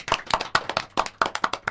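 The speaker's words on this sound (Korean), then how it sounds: "박수로 환영하시죠." A small audience claps to welcome a guest at a Korean medical association presidential candidate podcast recording; several distinct sharp hand-claps in a loose rhythm, close and fairly loud, with no talking.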